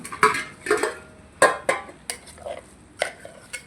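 Cooking pots and metal vessels clatter and knock in a kitchen in sharp, irregular bursts a few times a second, close by and with no talking.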